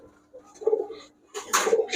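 Giribaz high flyer pigeons coo in short, close throaty bursts, a soft murmur first and a louder, fuller run of cooing near the end.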